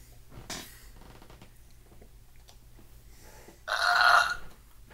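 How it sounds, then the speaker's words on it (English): A single loud, close burp erupts near the end after a short quieter noise, standing out against a low background hum with no speech. "Somebody belched."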